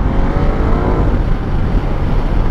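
A Ducati superbike's engine at around 100 km/h on a rough road, a loud, close, continuous roar with steady rumble and wind rush throughout.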